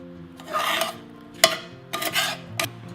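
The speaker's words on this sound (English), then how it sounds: "Put them into the skillet. Toss that with all these ingredients." Button mushrooms tossed with a glaze in a skillet, giving several short bursts of scraping and stirring with a sharp clack of utensil on pan in the middle, up close and without talk.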